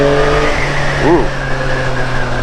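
A Yamaha MT-09 SP motorcycle in sport mode pulling hard in third gear, its engine note rising steadily and loudly with a brief whine in the middle.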